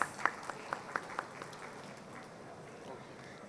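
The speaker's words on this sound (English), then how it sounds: "let us all give a huge round of applause" A conference audience at a startup investment panel gives a short burst of applause, a few distinct claps at the start that quickly thin out and fade into a quiet room murmur.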